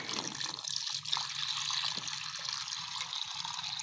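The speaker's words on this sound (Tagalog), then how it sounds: "Tapos, lagyan natin ng tubig poso, mga kalapatid." Water from a hand pump poured into a pigeons' drinking container, a close, steady trickle and splash running without a break.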